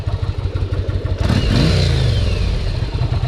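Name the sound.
1988 Yamaha Virago 750 motorcycle engine running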